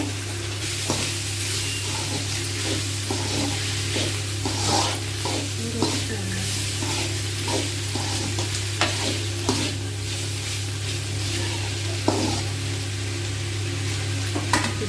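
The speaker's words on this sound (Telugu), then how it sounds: "కొద్దిసేపు వేయించిన తర్వాత కొద్దిగా మిరప్పొడి కొద్దిగా ధనియాల పొడి కొద్దిగా మిరియాల పొడి వేసి వేయించాలి బాగా" Goat blood fries in a pan with chilli powder, coriander powder and pepper powder while a spoon stirs it, giving a continuous sizzle broken by repeated scraping knocks against the pan.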